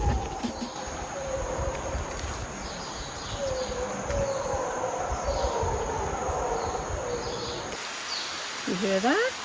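Distant howler monkeys roar and moan over a dense, steady background of rain and jungle noise, with some voices talking nearby.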